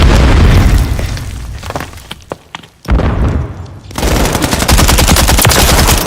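Bursts of automatic gunfire with booming impacts in Call of Duty MW3 on PS5. A loud, dense volley sags into sparse scattered shots and a brief lull, then rapid fire resumes hard and continuous.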